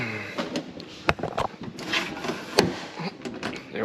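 Sliding window on a Huey helicopter in a hangar being shut, heard as a few sharp wooden-sounding knocks and scrapes, with one loud clack near the end, close by amid background rustle.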